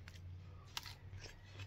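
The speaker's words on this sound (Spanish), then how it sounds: "Vamos a seguir cortando los chiles." Scissors snip through chiles for chiles en escabeche, a few quiet crisp cuts with one sharper snip, close up over a low steady hum.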